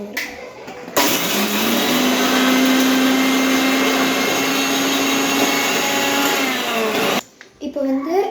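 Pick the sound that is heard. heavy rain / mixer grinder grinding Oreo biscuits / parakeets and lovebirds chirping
mixer grinder grinding Oreo biscuits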